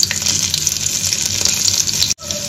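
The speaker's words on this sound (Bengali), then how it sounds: "কড়াই দিয়ে দিয়েছি তেল, আর দিচ্ছি 5 ফোড়ন" Five-spice seeds sizzle in hot oil in a wok, a loud steady hiss that cuts off abruptly near the end before a softer sizzle resumes.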